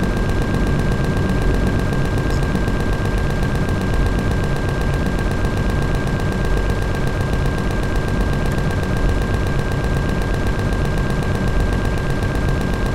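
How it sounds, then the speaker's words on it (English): Gatling guns in the video game Empyrion fire continuously, a dense, loud, unbroken mechanical roar with a steady whine running through it. "let's see what four Gatling guns do to the base"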